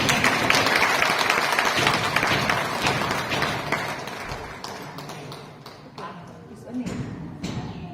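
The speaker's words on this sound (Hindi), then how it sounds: "तो तालियां बजाइए।" A congregation at a church service in Ranchi claps, dense applause at the start that fades into scattered claps and taps, with a voice speaking over it toward the end.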